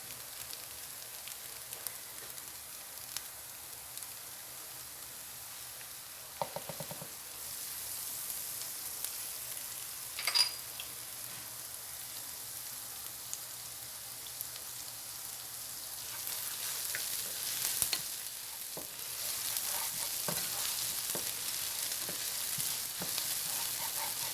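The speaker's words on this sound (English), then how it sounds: "Now we're going to add the rest of our butter" Butter sizzling in a pan while making a cheesy chicken broccoli mash pie, a soft, steady fry with occasional scrapes and clinks that grows somewhat louder toward the end.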